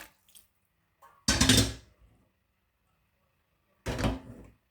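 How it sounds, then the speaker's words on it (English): Two short bursts of water splashing and pouring into a metal pot of ribs, close by, separated by a quiet pause. "Right, I'm just adding a tiny bit more water."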